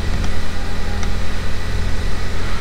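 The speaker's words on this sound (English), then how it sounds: "we can start the vehicle up" Lincoln MKC engine idling steadily after start-up, a continuous low rumble with a mid-level hum that stays constant and fairly close throughout.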